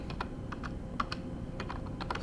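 Keys tapped on a computer keyboard while a name is typed into engineering simulation software, a run of light, quick clicks with uneven spacing, close by and fairly quiet over a low background hum.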